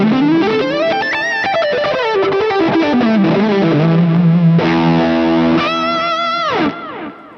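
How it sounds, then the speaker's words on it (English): Electric guitar played through a Fractal AM4 with distortion and a music hall reverb, loud bending lead lines followed by sustained ringing chords that swell and fade into a reverb tail. "Let's go ahead and turn on the reverb here, though. and I've got the music hall"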